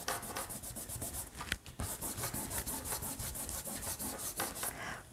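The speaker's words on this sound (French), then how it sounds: "je vais juste gommer un peu." An eraser is rubbed quickly back and forth across pencil lines on drawing paper, giving a close, steady scrubbing rhythm with a brief pause partway through.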